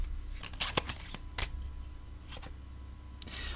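A deck of cards being shuffled in a few short riffling bursts, quiet and close, separated by pauses of near silence.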